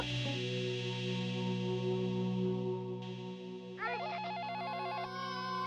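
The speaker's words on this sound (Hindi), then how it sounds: "इसी समय फोन भी बज रहा है, लगातार फोन बज रहा है।" A telephone rings steadily with a warbling electronic tone, heard close and clear over a low, constant hum.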